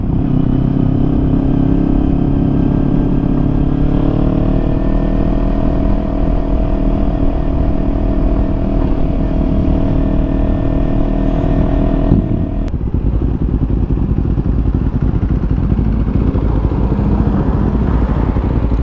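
A modified 2020 KTM Duke 390 motorcycle engine drones loudly and continuously up close, its pitch easing slightly before shifting abruptly to a rougher, lower rumble.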